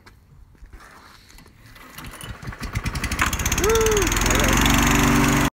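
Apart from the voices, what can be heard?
lawn mower pull-started and running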